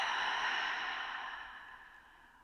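A single long, deep exhale during seated chair yoga, breathy and close, fading out gradually over a couple of seconds, with no talking.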